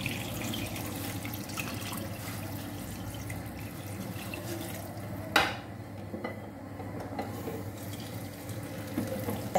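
Water is poured into a cooking pot of chicken with tomatoes, a continuous low splashing rush that carries on under a faint clatter of cookware, with one sharp knock midway.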